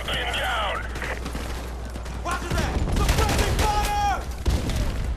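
A G3 rifle fires on full automatic in Call of Duty 4: Modern Warfare Remastered, in a dense, close rattle of shots that builds over several seconds amid battle noise and voices talking.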